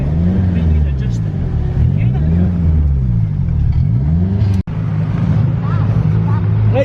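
A Mazda RX7 fitted with a K20 engine driving on wet roads, heard from inside the car: a loud, droning engine note that rises and falls through gear changes, with a voice talking over it.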